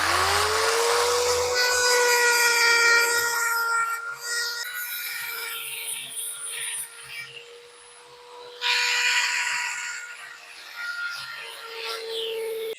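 Buffalo horn ring being shaped and its edges curved, likely with a power tool, giving a steady close grinding whine with a shifting high tone that dips briefly then resumes.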